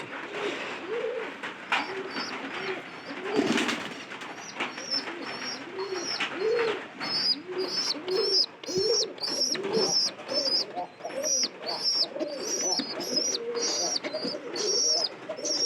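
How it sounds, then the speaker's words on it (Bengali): Pigeons in a loft coo in repeated soft throaty phrases nearby, with high twittering calls from young birds coming in the second half, and faint background noise. "তো এটা হলো আমাদের দ্বিতীয় নাম্বার ঘরের কবুতর"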